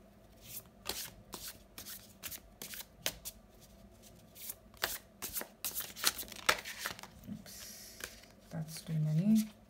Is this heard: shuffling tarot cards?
yes